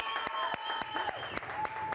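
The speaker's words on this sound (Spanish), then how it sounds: "Se escucha este aplauso." Crowd applause during a Venezuelan celebration of Andrea Rubio winning Miss International 2023, steady dense clapping mixed with sharp cheers and a whistle-like tone over broadcast background.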